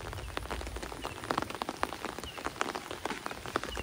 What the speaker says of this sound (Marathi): आपण आता पाऊस जायची जरा वाट बघूया.